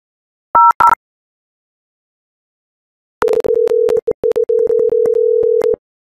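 A VoIP phone call placed to an interactive voice response system: a brief two-tone electronic beep, a pause, then a loud steady ringback tone broken by short gaps and clicks, clean and close.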